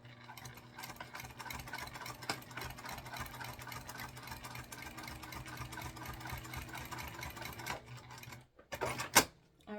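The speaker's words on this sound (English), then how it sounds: "And again, we're just basting this in place." A sewing machine bastes fabric panels of a sling bag together, a steady, rapid mechanical whir with fine rhythmic ticking that runs continuously at moderate level, then stops and restarts briefly in a few quick bursts.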